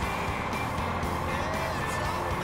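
A truck drives in the Rig n' Roll game, its engine a steady loud drone with road rumble, unbroken throughout.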